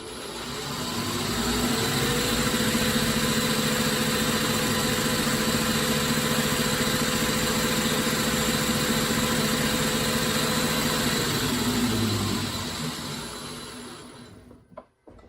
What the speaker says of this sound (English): Let's go ahead and take that cut to 65 thousandths deep.